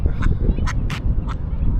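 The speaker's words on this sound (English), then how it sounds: "Hello, Mama Duck." A duck quacks in several short bursts close by over a steady low background rumble, outdoors in Washington, D.C.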